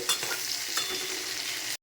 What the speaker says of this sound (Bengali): আমি এখন এই চিংড়ি মাছগুলো ছেড়ে দিব হালকা করে ভেজে নিয়ে তুলে নেব